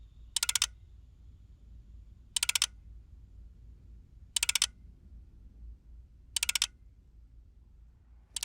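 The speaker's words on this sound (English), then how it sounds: "So if you hear this clicking sound as you're operating Marty, you know that Marty is alive" A mobile sensor device measuring the urban environment gives off crisp bursts of rapid clicking, four evenly spaced clusters about two seconds apart over a quiet low hum.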